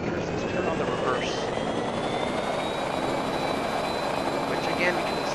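A helicopter in the Minecraft Immersive Vehicles mod flies with a steady, loud whirring drone and faint tonal whines sweeping through it, running continuously throughout.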